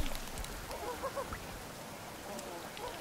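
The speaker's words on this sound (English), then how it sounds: "Oh, it's a bird, okay." A bird calls in The Forest survival game, a few faint honking, quacking cries scattered over a low wooded ambience, quiet and somewhat distant.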